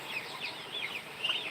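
A Rhode Island Red hen clucks after laying an egg, with soft, repeated chirpy clucks above a steady background hiss, faint and at some distance.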